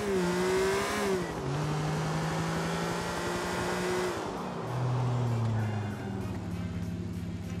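A car drives in Grand Theft Auto 4, its engine humming steadily and shifting pitch as it speeds up and slows, continuous and close throughout.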